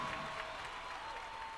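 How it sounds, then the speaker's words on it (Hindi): An audience at a Bhojpuri film awards show applauds with steady, dense clapping that stays even and continuous, heard at a distance. "एक जोरदार ताली आपसे उम्मीद करता हूं"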